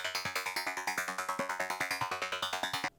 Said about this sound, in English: So this arpeggiator is just going to run